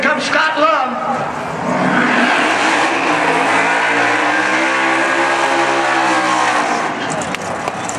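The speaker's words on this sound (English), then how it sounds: "if the wheelie is anything indicative of the burnout, that burnout was fantastic" A Chevy Camaro at a drag-racing event rips through a loud burnout and wheelie, its engine wailing and rising in pitch before tapering off, with an excited announcer talking over it.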